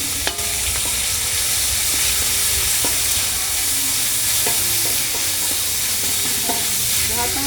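Capsicum and tomatoes sautéing in a pan give a steady, close sizzle and hiss, broken by scattered clinks and scrapes of stirring; no one speaks.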